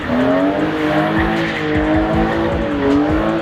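A rear-wheel-drive BMW spins donuts, tires squealing loudly and steadily with wavering pitch over a continuous engine drone, close and unbroken.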